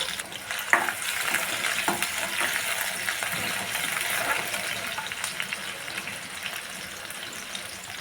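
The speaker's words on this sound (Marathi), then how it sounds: "तेल तापले आहे, आता आपण त्यामध्ये लसूण घालून घेणार आहोत। लसूण थोडं आपण भाजून घेणार आहोत।" Garlic frying in hot oil in a home kitchen pan, a steady close crackling sizzle with a few sharp pops and light scraping, no voices.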